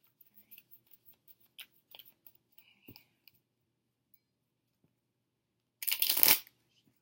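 Playing cards click and flick in scattered soft taps, then a loud riffle shuffle rasps briefly near the end, close by in a quiet room.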